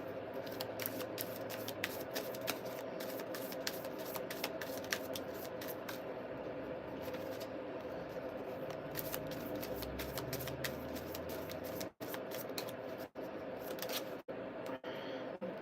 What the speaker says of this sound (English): Just shuffling, that's all I'm doing.